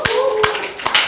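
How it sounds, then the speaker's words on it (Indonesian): A few scattered hand claps at an informal talk-show style discussion, brief and close, with a voice speaking underneath. "Tepuk tangan dulu."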